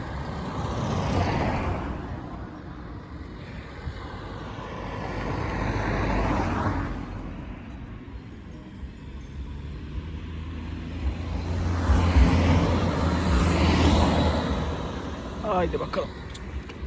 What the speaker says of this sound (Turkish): Bu arada arabalar yoğun bir şekilde gelip gidiyorlar.